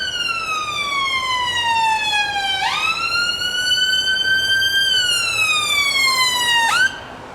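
An ambulance siren sounds loud and close on a Brixton, south London street. It rises and falls in long, steady sweeping wails with bright, ringing tones, then cuts off near the end.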